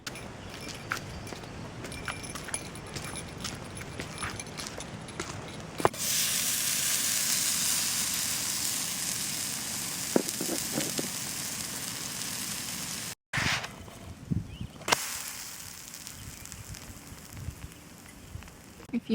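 Pancakes sizzle in a hot pan at a backcountry canoe campsite, a steady hissing fry that swells for several seconds and then drops away to quieter outdoor ambience with a few small clicks and knocks.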